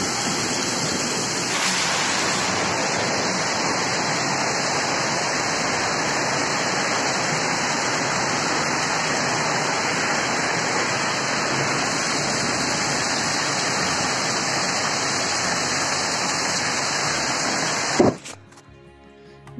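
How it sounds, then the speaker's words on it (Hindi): Torrential April rain pours down in a dense, unbroken roar that holds loud and steady, then cuts off abruptly near the end. "ये देखो मूसलाधार बारिश हो रही है, बहुत ज़्यादा देखो।"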